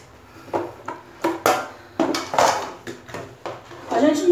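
A lid is fitted onto a container of zucchini salad, a series of close plastic clicks, taps and rattles at irregular intervals, with a person speaking between them.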